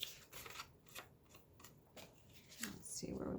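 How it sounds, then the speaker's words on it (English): Scissors cut paper to size for junk journal ephemera on a Valentine craft project, with a few close, crisp snips and paper rustles, then a louder slice at the end. "and now let's cut our length"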